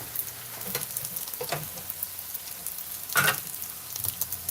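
Sweet chili pork fried rice with marinade sizzles and pops in a hot pan, a steady low frying hiss with a few sharper crackles and one louder burst of popping, no voices.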